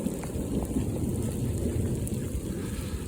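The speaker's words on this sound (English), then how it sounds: "It's been raining for 15 minutes solid downpour." Heavy rain pouring in a desert camp area, a dense continuous roar of water at steady loudness with no voices.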